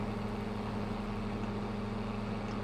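A tractor engine idles steadily in Farming Simulator 25, a constant low hum with a faint, even throb running unbroken from start to finish.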